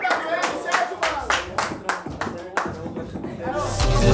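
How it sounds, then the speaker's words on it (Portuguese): A crowd at a street rap battle semifinal claps in a short burst of uneven, scattered applause for the battler, with a voice talking over the clapping. "Palmas aí pro WM"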